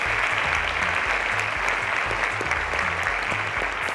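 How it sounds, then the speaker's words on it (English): Studio audience applause for a contestant on a television quiz show, a dense steady wash of clapping at close range that holds at full strength for about four seconds. "A round of applause to Ishaq, ladies and gentlemen."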